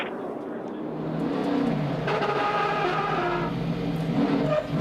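NASCAR stock cars roar around the track at the 2012 AdvoCare 500 as one car spins off turn 2, a steady loud engine drone with rising revs and a broadcast voice talking over it.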